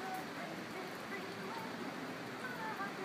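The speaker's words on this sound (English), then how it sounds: "this is to illustrate what the rain is like" Wind-driven light rain blows across a strip mall parking lot, giving a steady, even hiss that runs without pause from start to finish.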